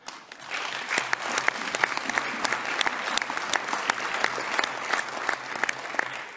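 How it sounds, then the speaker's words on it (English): A crowd in a European Parliament environment committee session applauds steadily for several seconds, dense clapping at moderate loudness with no talking. "thank you for the applause"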